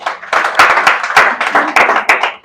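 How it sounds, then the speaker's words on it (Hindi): Children clap loudly in a classroom-style gathering: a dense, close burst of many hands clapping together, rising and falling in quick waves for a couple of seconds. "जोरदार इसको ताली बजाइए अशेष की लड़की को।"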